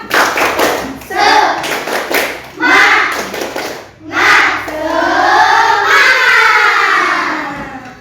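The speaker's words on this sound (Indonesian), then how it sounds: "Tepuk semangat." A school class claps out a rhythmic spirit chant in a classroom, bursts of patterned hand claps and voices in sync, with a longer sustained cheer of clapping and children's voices at the end.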